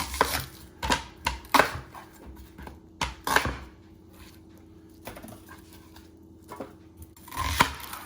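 A knife roughly chopping celery and onions on a cutting board while preparing vegetables for a prime rib roast, heard as irregular clusters of sharp, close thuds and knocks separated by quieter pauses.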